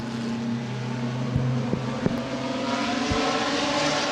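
ARCA race trucks accelerating at Winchester Speedway, a steady engine roar heard from a distance with droning tones and a few sharp pops, sustained throughout.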